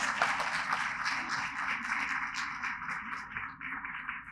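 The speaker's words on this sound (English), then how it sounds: "I think that deserves a round of applause, ladies and gentlemen." An audience at a business talk claps in sustained applause, dense and steady throughout, with no voices standing out.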